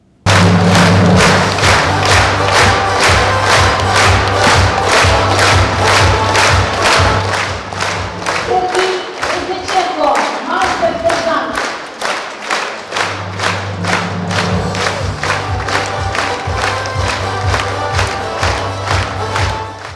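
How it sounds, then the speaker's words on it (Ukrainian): A concert hall audience in Odesa, standing for soldiers at a Defenders' Day and Teachers' Day celebration, claps in a loud, strongly rhythmic unison beat with cheering, briefly thinning midway before the steady clapping resumes. "Зал аплодує воїнам стоячи."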